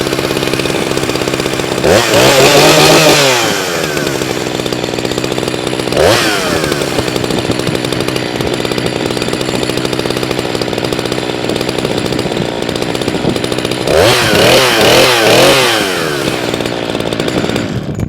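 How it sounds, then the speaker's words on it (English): A chainsaw runs continuously at idle with a freshly fitted, tightened chain, revving up sharply three times to spin the chain and falling back to a steady close drone between bursts. "run the saw for a minute, spin the chain"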